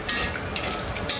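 Chillies frying in a pan give a brief, close crackle and sizzle with light stirring clicks.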